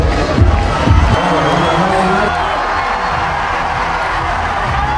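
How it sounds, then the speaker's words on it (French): A crowd cheers, whoops and applauds a climber at a Chamonix climbing competition, a loud, continuous roar with shouts rising early and then holding steady. "applaudissements pour Zélia Abedou"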